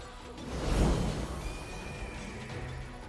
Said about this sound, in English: these Hell Knights are on horses